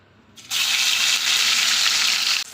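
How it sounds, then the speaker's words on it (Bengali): Onion paste drops into hot oil and ghee in a pan and breaks into a loud, steady sizzle that starts abruptly, holds bright and close for about two seconds, then cuts off sharply. "এই পেস্টটাই এখন এই তেলের মধ্যে দিয়ে দেবো"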